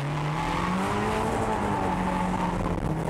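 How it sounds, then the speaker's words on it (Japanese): A drift car's engine howls loudly and continuously while cornering at the Motorland Suzuka circuit under partial throttle, its pitch dipping and climbing, with tyre noise beneath. "いかにエンジン音を途切らせずコーナーを回っていくか"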